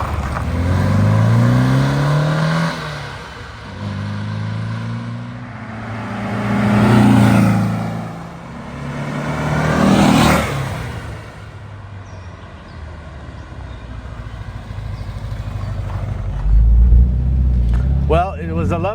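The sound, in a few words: 1964 Porsche 356C Cabriolet driving past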